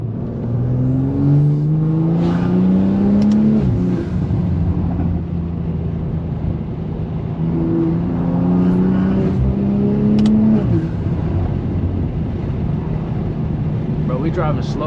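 A 400 hp BMW G20 M340i driving, its engine note rising through two clear acceleration pulls with shifts between, then settling into a steady cruising drone with road noise, loud and close from inside the car.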